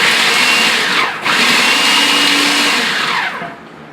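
A small countertop food processor chops fresh purslane stems and leaves for a relish, giving a loud, steady whirring motor roar that briefly dips about a second in, then runs on and eases down at the end.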